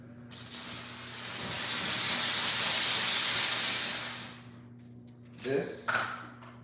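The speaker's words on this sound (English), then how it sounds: "It shoots out steam in a pencil array" A car detailing steamer blasts steam from its pencil nozzle in a rising, sustained hiss that swells for about four seconds, then stops, followed by a couple of handling knocks over a constant low mechanical hum.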